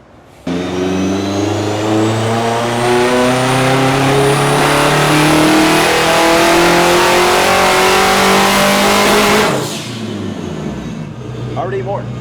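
A Honda time attack car on a dyno, engine revving hard and climbing steadily in pitch for nearly ten seconds at close range, then cutting back to a lower idle-like drone.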